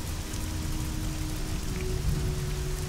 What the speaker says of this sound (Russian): Чертов дождь.